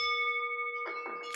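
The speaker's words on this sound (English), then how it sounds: "There is a bell" A bell rung to open a Rotary meeting at an awards event rings out as a steady sustained tone, then fades under some faint room noise.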